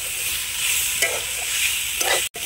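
Chopped seedless tomatoes fry in a pan with very little oil, a loud, continuous sizzle with a few soft stirring scrapes and a short break near the end.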